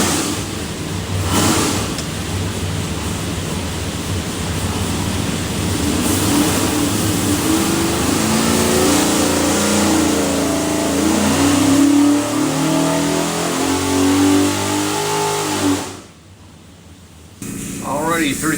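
A 582ci big block Chevy V8 with a Moroso oil pan pulls hard on a dyno, revving up in one long loud climbing run before cutting off abruptly near the end, leaving a quiet tail.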